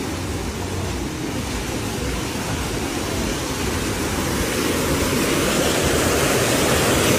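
Steady broadband roar of a strong waterfall at a bathing spot with cafés nearby, continuous and fairly loud for the whole stretch, slightly swelling toward the end, with no voices.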